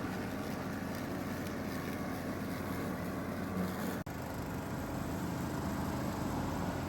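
A John Deere LA115 lawn tractor pulling a custom 72-inch Scag mower deck, salvaged from a zero-turn and fitted with a fresh belt, runs with a steady, loud engine and deck drone that dips only for a split second midway.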